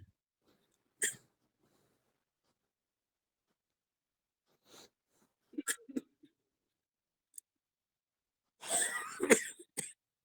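Scattered coughs during an online yoga session break an otherwise quiet stretch: a single sharp one early, a couple midway, then a longer harsh fit near the end.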